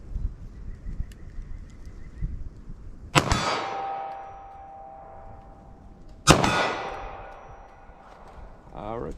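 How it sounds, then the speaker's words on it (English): A pistol fires 147 gr 9mm+P Underwood Nosler rounds in slow fire at 25 yards, with two loud, sharp shots several seconds apart, each ringing out with a metallic echo against low background noise. "I'm just gonna fire from various distances to see how they do for me in slow fire"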